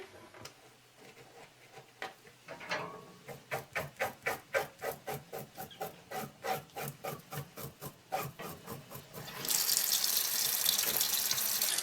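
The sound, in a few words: rinsing scaled trout under cold running tap water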